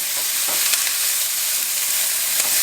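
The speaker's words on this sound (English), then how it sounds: "while the onions are cooking, I'm going to add just another tablespoon of olive oil and let them keep cooking" Onions sizzling steadily in olive oil in a pan, a continuous close hiss with a few faint pops and stirring clicks and no voices.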